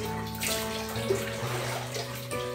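Water sloshing and splashing in a tub while a dog is given a warm bath, a steady wet churn with brief louder swishes and no talking.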